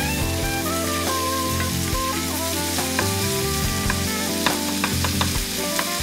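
Pork sizzles and fries in a pan, a dense steady crackle with occasional stirring scrapes and sharp pops, close and loud with no talking.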